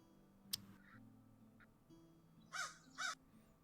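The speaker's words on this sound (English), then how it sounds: "Noisy crow." Two harsh crow caws, close and fairly loud, come back to back near the end over a low steady hum, after an earlier sharp click and a couple of faint chirps.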